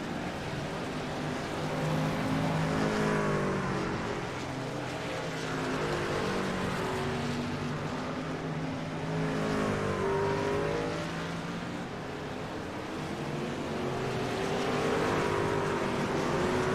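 Race cars in a superspeedway series pulling away from pit lane one after another, a sustained loud roar of engines rising and falling in waves as each car accelerates past.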